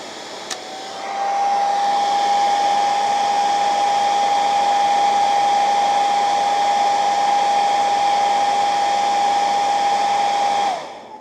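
A hair dryer, powered by a Bluetti AC50B portable power station while camping, switches on with a click and runs at a steady, loud whine for about ten seconds before cutting off.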